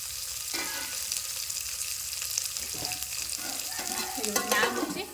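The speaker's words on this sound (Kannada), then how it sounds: "ಫುಲ್ ಗೋಲ್ಡನ್ ಕಲರ್ ಬರೋ ತನಕ ಫ್ರೈ ಮಾಡ್ಕೋಬೇಕು ರೀ ಗ್ಯಾಸ್ ಫ್ಲೇಮ್ ಒಂದು ಸ್ವಲ್ಪ ಮೀಡಿಯಮ್ನಾಗಿಟ್ಟ ಫ್ರೈ ಮಾಡ್ಕೊಳ್ಳೋಣ" Onions fry in a pan over a medium gas flame, giving a steady loud sizzle with stirring scrapes that grow busier toward the end.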